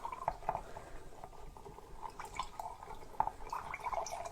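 A wooden spoon stirs salt into water in a jar while making beetroot kvass, giving faint, irregular liquid clinks and small sloshing taps close by, with no talking.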